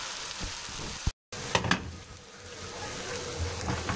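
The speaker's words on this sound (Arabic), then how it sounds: "شايفين العدس الرز ده هشوحه مع بعض" Rice and lentils sautéing together in a pan for Egyptian koshari, giving a steady close sizzle with a few stirring scrapes and brief clatters, no voices.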